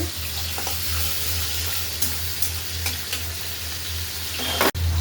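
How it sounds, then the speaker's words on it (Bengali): Fish fry in hot oil in a pan with a dense, constant sizzle heard up close, a few crackles, and a short clunk just before the end. "মাছগুলো ভাজার প্রায় শেষ হয়েছে।"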